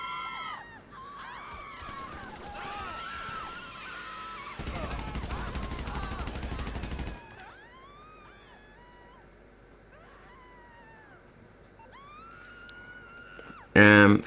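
Gunfire in a video game, with a dense burst of rapid automatic shots lasting a couple of seconds amid electronic game chatter and voices, then a final loud blast at the end.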